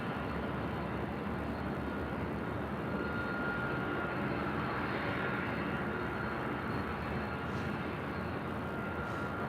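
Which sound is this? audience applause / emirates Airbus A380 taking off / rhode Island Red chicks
emirates Airbus A380 taking off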